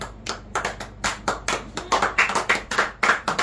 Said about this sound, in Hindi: बम थोड़ी फूट रहे, ताली बजा रहे सब लोग